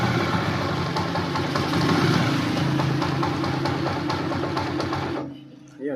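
Noisy small engine idling right after a hard start with choke, loud rough mechanical clatter and knocking running steadily up close, then cutting out abruptly near the end.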